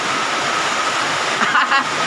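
Steady, heavy rain hisses continuously, with a few faint voices briefly rising over the downpour near the end.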